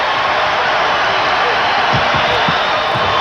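Stadium crowd at an Indiana Hoosiers game roaring after a touchdown, a loud continuous wash of cheering and whooping, with a commentator talking over it.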